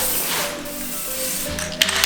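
A spray can laying red paint onto a 1960s go kart body being restored, a loud close continuous hiss lasting nearly two seconds, ending with a couple of small clicks.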